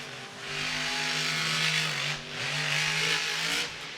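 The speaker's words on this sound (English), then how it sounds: "you hear that wide open throttle?" A monster truck's 540 engine roars at wide open throttle during a Monster Jam stadium show at TIAA Bank Field in Jacksonville, Florida: a loud, sustained growl whose pitch rises and falls, briefly dipping midway before surging again.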